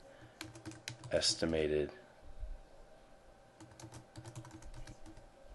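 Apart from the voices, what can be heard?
typing on a computer keyboard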